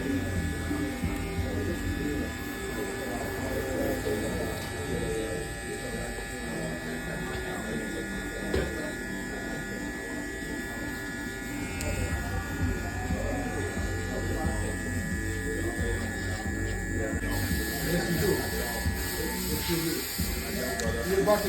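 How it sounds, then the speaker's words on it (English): An FX1 hair clipper buzzes close and continuously while fading a high skin fade haircut, a steady electric hum with faint background sounds. "going back in with my FX1 clipper and starting all the way closed, slowly fading up again"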